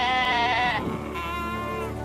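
A goat bleats loudly and close by, one long wavering cry that trails off after about a second into quieter background sound.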